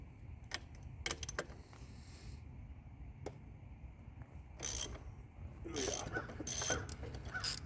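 A ratchet clicks on the bolts of a 2019 Hawk 250cc motorcycle as they are broken loose, with quick bursts of metallic ratcheting near the start and a louder run toward the end, close and otherwise quiet.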